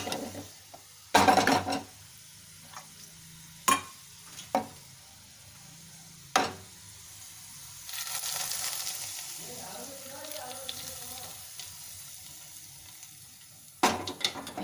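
Hot ghee tempering with fried onions is poured into cooked maash lentils, giving a hissing sizzle and soft stirring, punctuated by several sharp clanks of a metal spoon against the pot, with no talking.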